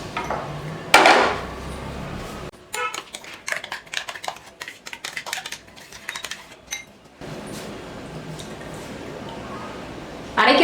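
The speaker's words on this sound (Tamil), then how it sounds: "இப்போ ஒரு பவுலுக்கு மாற்றிக்கலாம்." Peanut chutney moves from a grinder jar into a bowl with soft wet squishes, scrapes and light spoon clinks in the middle stretch. Someone talks around the handling.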